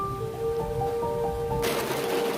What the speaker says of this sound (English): We're stuck in the car because it's hailing.